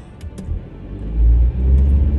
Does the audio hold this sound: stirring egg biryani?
no